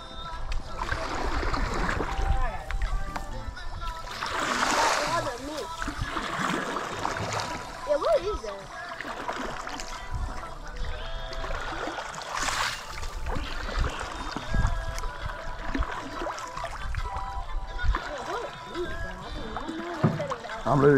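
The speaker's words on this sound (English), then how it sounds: "Yeah, I know, but you paddle forward." A boat paddled forward through water, with repeated splashing paddle strokes and a steady watery wash close by, and people talking over it throughout.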